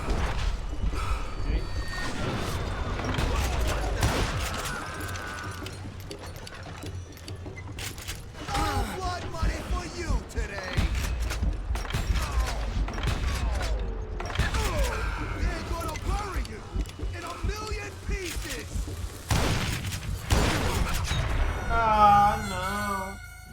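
Gunfire in the Western game Call of Juarez Gunslinger comes as sharp, irregular shots mixed with mechanical clicks, set among game character dialogue and music.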